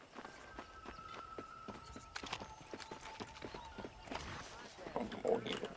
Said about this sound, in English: Monte no seu cavalo.